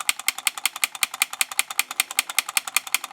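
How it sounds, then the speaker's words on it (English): A shunt fixer tool's trigger pulled over and over on a pre-lit Christmas tree light socket gives a rapid, even train of sharp clicks, about six per second, close and steady with no talk. "I'm going to plug the shunt fixer part of our tool into that socket, and I'm going to pull the trigger several times"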